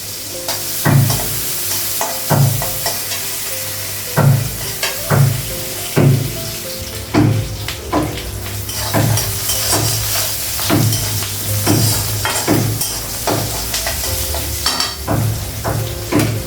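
Onions sizzle steadily in hot oil in a pan, with regular, loud stirring clacks of a spatula against the pan about every second throughout.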